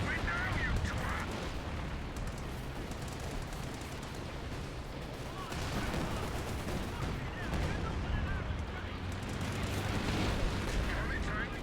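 An artillery barrage in the Company of Heroes 2 strategy game, with dense overlapping cannon fire, explosions and gunfire rumbling continuously under unit voice lines.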